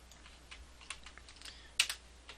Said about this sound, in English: Oops, again, finish typing.